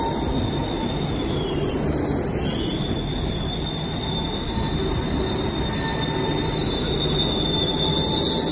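A two-part passenger train arrives at Stolberg (Rheinland) station on the Cologne–Aachen line, its rumble steady and close while wheels squeal at a high pitch as it rolls in, with no talking.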